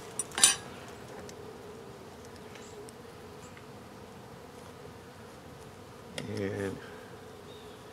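Honeybees from an opened hive hum in a faint, steady drone close by, with a couple of brief clinks of hive equipment and a single spoken word.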